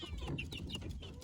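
A brooding hen sitting on her eggs gives soft, low clucks and murmurs, close by and fairly quiet, in a short continuous burst.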